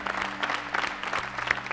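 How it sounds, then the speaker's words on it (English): A church congregation breaks into applause, a dense, even patter of many hands clapping close by, with a low hum underneath. "Can we celebrate obedience with applause right now?"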